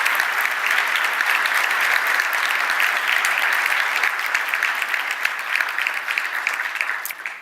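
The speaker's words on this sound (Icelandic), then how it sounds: "Við erum að klappa fyrir Hrund og þakka henni fyrir" A conference audience in Iceland giving a long round of applause, thick sustained clapping at even strength throughout that tapers slightly at the end.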